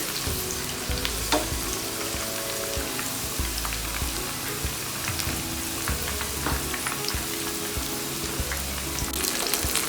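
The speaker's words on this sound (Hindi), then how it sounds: "भिंडी चेक कर लेते हैं। 1-2 सेकेंड और टाइम लगेगी फ्राई होने में।" Okra (bhindi) deep-frying in hot oil gives a dense, steady, rain-like crackle and bubbling that runs unbroken and fairly loud, with a few faint clinks and no voices.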